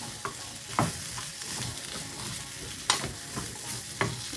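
Chickpeas stir-fried in a sizzling pan for a Bengali chola bhuna, with steady frying hiss and several sharp scraping stirs of a spatula, close and fairly loud, no talking.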